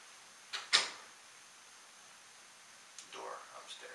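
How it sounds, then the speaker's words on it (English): A door upstairs in a house sounds twice, faint and distant: a soft knock followed by a slightly louder bump, then quiet room hiss with light rustling. "Door upstairs."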